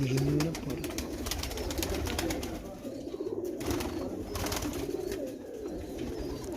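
A prized pigeon cooing, low rolling coos near the start, then steady murmuring over constant background noise.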